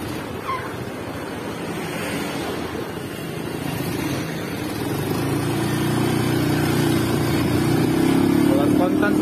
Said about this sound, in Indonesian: Kita tes drive Mio Sporty pakai karbu Green.